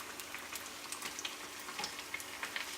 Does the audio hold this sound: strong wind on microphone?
no